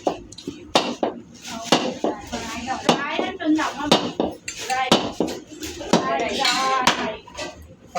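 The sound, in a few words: coconuts being cracked on a stone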